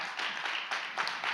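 One person clapping hands in a steady run of claps at moderate loudness, indoors, with no voices.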